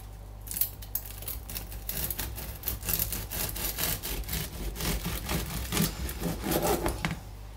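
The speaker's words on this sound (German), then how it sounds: "mein Brot ist jetzt allerdings noch nicht komplett ausgekühlt, aber ich schneide es trotzdem an." A knife saws through a crusty, freshly baked loaf that is still slightly warm, a close, continuous crackling rasp of back-and-forth strokes breaking through the crust.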